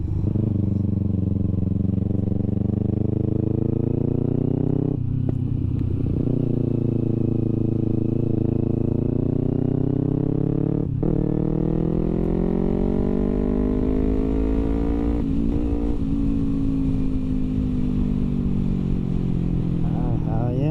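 A Kawasaki Ninja 250R motorcycle being ridden, its engine droning loud and steady with pitch rising and falling through gear changes and brief dips between shifts, constant throughout.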